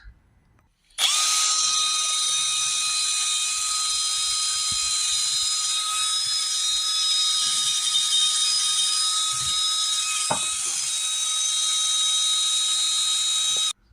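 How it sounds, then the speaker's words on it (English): A power drill spins a wire wheel brush cleaning a car's diesel injector, with a steady, loud whine and scratchy hiss, running continuously after a brief start, with a short dip near the end. "Now I've got a wire wheel brush here on a drill."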